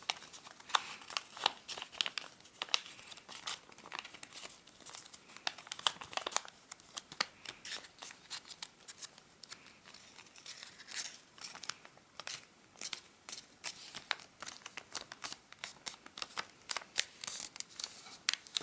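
Origami paper crinkles and rustles softly and close up as it is folded in half, a faint, continuous scatter of small papery crackles.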